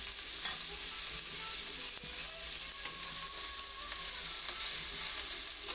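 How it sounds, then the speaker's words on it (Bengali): Fish frying in mustard oil in a pan, a dense loud sizzle with scraping as the pieces are flipped, close and constant throughout. "এনে কিছুটা সরষার তেল ছড়িয়ে দেবো আমি, দিয়ে মাছগুলো উল্টিয়ে দেবো"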